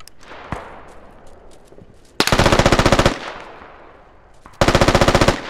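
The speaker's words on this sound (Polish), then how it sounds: "O, ktoś strzela w naszą stronę." Gunfire in the Squad military video game: two loud bursts of rapid automatic fire close by, separated by echoing scattered shots and reverberant rumble.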